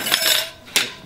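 Metallic clinks of a steel tire spoon working a motorcycle tire bead off the rim, two or three sharp close scrapes and taps with a short gap between them.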